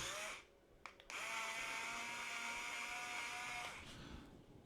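An electric screwdriver from a 35-in-1 repair set drives screws, a steady high motor whine that starts, briefly stops and restarts, then runs continuously at close range with no talk.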